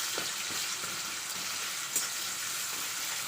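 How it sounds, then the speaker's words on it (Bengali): Raw onions with whole garam masala frying in hot oil, a steady bright sizzle with a few soft stirring scrapes, close and continuous with no voices. "লাল লাল করে ভেজে নেব"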